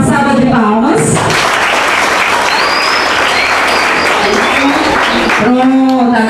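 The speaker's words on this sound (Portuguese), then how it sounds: "Uma salva de palmas" Loud, sustained audience applause at a school presentation, a dense roar of clapping filling the middle, with speech heard briefly before and after.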